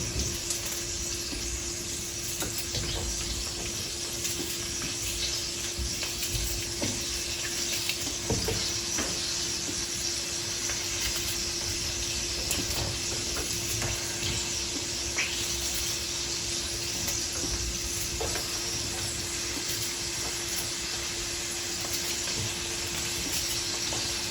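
Chopped onion frying with meat in a covered pan for an oven meat-and-potato dish, a steady close sizzle and hiss with faint stirring scrapes throughout, no voices.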